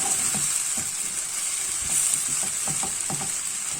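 Onions sizzle and fry steadily in a pan for an onion tart, a constant hiss with a few soft scraping stirs scattered through, close and alone with no talk.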